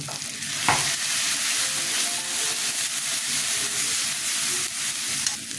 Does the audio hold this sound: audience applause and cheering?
no